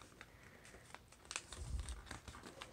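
Paper being carefully folded for a Chinese thread book at a paper-folding conference, with close crinkling and soft creasing that builds into a denser rustle and ends in a sharp crackle.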